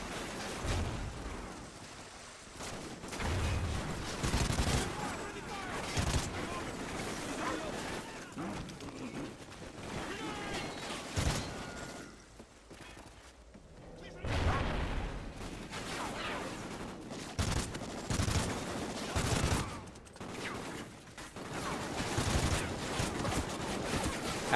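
Gunfire and explosions in the Call of Duty: Ghosts campaign, dense bursts of shots and booms with shouting voices throughout, loud and chaotic under a continuous battle din.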